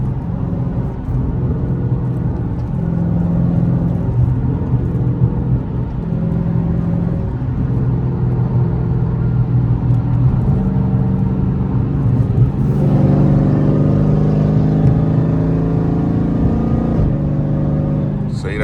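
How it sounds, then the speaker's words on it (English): Engine of a car driven on an early-morning run, shifted up too early: a loud, steady low engine drone with slight pitch steps as the gears change, rising again toward the end, heard from inside the car. "See, that sound like an early upshift, bro"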